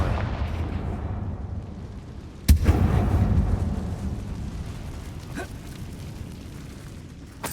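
In the video game Hogwarts Legacy, a Confringo fire spell bursts with a single sharp, loud boom inside a mine. A rumbling tail follows the blast and fades into a low ambient drone.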